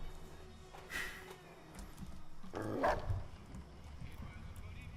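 A dog in Fallout: New Vegas gives a couple of short barks, one near the start and a louder one midway, over steady game ambience with a voice talking quietly in the background.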